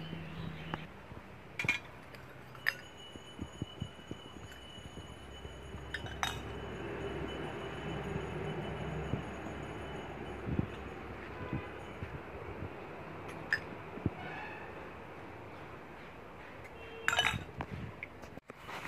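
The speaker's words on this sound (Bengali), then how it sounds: "ঠাকুর পূজার বাসন ধোয়া হচ্ছে, ভালো করে ধুয়ে নিচ্ছে মা।" A mother washes brass puja utensils by hand outdoors, metal pots and plates clinking and clattering in scattered bursts over a steady background hum, with a few sharper knocks near the end.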